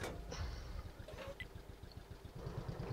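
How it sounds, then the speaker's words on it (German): A tank engine in World of Tanks idles with a steady low rattling putter, fairly close and continuous, with faint game noises above it. "Der Motor von meiner Ente hier ist ein bisschen, ne? Knattert so vor sich hin."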